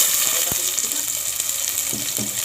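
Onion and garlic frying in oil or ghee in a cooking pot, a steady close sizzle throughout with a few sharp crackles and utensil taps.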